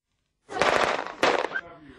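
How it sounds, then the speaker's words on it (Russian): A restored WWII German self-propelled artillery gun fires. A sudden loud blast breaks the silence, then a second burst of sound follows and rolls away quickly. "За последние 70 лет это первый выстрел этого танка."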